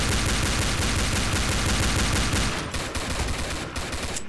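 Rapid automatic gunfire from weapons in the video game Codename Cure, a dense continuous burst that carries on steadily for a couple of seconds, then breaks into shorter choppy volleys and scattered shots.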